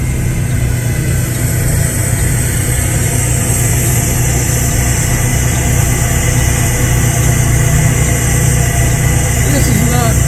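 An air compressor runs nearby at a truck delivery site, a loud continuous droning mechanical roar that holds steady throughout, with voices faintly underneath.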